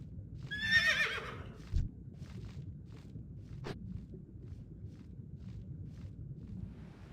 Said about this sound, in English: Oh boy, we got a horsey.